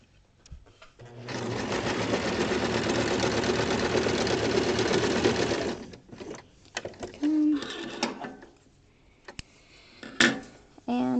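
A sewing machine back stitches a pocket in a steady burst of about five seconds, then stops, followed by scattered handling clicks and rustles nearby.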